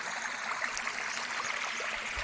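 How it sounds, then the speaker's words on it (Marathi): River water streaming over rocks near Dabhosha waterfall in Jawhar, a steady, close, broadband rush and trickle that holds even throughout, with no voices. "हा किती सुंदर असा प्रवाह आहे नदीचा"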